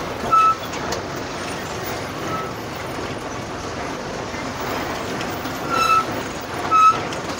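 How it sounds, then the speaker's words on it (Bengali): A train rumbles steadily across a bridge above a road tunnel used by trucks, a broad continuous roar with a few brief higher tones and bumps, heard from below with no talk. "আর এই ফুকোতে গাড়ি ঢুকছে আর ওপর দিয়ে দেখো ট্রেন যাচ্ছে"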